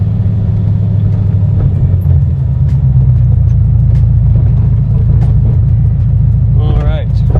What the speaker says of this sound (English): the look of this car with the sound of a V8 coming out of it